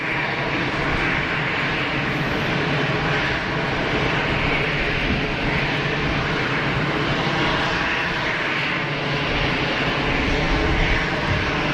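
Airliners on the move at Geneva Airport, a steady broadband jet engine roar filling the whole stretch, loud and continuous without breaks.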